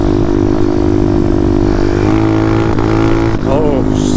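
A motorcycle engine droning loudly at high revs during a wheelie, then the pitch drops as the throttle is released with a brief pop, with wind buffeting throughout.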